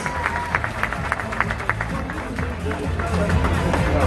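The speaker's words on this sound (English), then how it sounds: "Let's give another round of applause for our judges" An audience claps in a loose, scattered round of applause for the judges at the Miss Universe 2017 preliminary competition, fairly close, with background murmur and shuffling rising toward the end.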